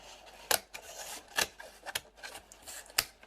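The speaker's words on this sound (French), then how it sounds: "J'ai une paire de ciseaux, ce sera peut-être un peu mieux." Short, sharp snipping and crinkling sounds come in uneven bursts as scissors cut open a plastic Pokémon card booster pack, close up and fairly quiet.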